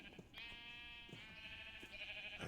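Minecraft sheep bleating in the game, two or three drawn-out wavering bleats over faint background game noise, moderately close.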